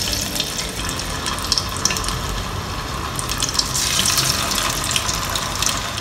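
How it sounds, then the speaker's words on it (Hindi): Butterflied chicken fries in hot oil in a kadai, a steady dense crackling sizzle that swells slightly toward the end, close and continuous with no talking. "चलें अब हम इसको फ्राई करना शुरू करते हैं।"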